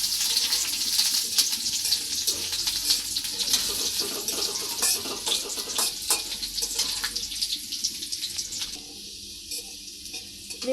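Chopped garlic sizzling and frying in an oil-filled pan while preparing soybean noodles, a steady close hiss with occasional stirring, no voices.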